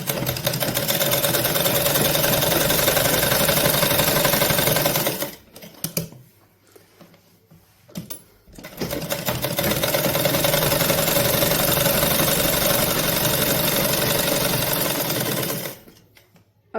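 Sewing machine stitching a test seam after a bobbin fix, a fast even whirring rattle that runs for several seconds, stops briefly for a few seconds, then resumes steadily before cutting off near the end.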